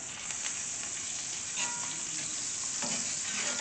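Butter melts and sizzles steadily in a cast iron skillet with garlic pieces, a soft continuous crackle with faint stirring scrapes.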